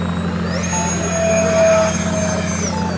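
RC STS Habu model jet with its electric ducted fan spooling up, a steady high whine rising gently and then easing back, heard close against a constant low background hum.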